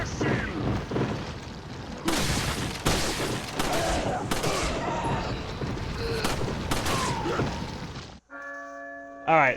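Repeated shotgun blasts in Resident Evil 4 (2005), loud broadband bursts fired in quick succession in a tight corner amid game noise, followed by a ringing church bell at the end.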